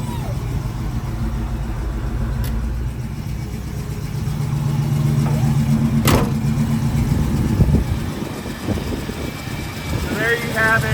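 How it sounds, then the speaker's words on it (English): 1973 Ford Mustang Mach 1, Q-code 351 Cobra Jet V8, idling steadily close by with a low, even rumble and a few faint clicks, while someone talks over it. "There's your 351 Cobra jet engine."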